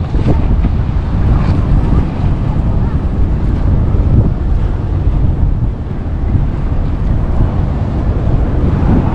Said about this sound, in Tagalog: Masyadong malakas yung hampas ng alon.